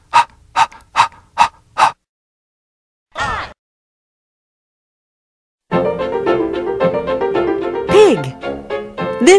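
A human voice imitates a hound dog's hurried panting with five quick rhythmic huffs, followed after a pause by a short gasp, then a person speaking.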